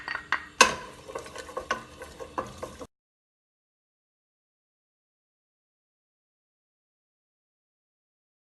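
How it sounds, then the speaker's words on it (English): Vegetables sauté in oil in a pan, with a few close spoon clinks and stirring scrapes over a light sizzle for about three seconds. Silence follows, then a brief sound right at the end. "So I'm gonna just start by sauteing some oil."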